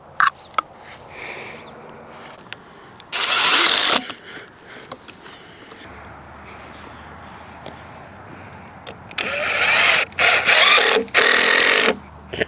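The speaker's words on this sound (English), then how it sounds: "put a washer on the screw, and then drill it in" A power drill drives screws fitted with washers into wood on a mobile archery stand, the wood splitting; two loud bursts of whirring stand out, one short and one longer with several stops and starts, amid quiet rustling.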